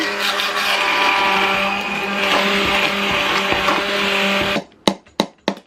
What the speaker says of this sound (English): Plop my immersion blender in there, mix it up good.